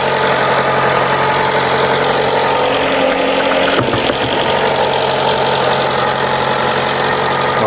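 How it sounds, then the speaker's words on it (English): Chrysler 200 engine idling in an overheating and leaking car, a steady close mechanical hum with a faint rhythmic knock and one brief clunk midway, no talk. "as you can hear, the engine is running"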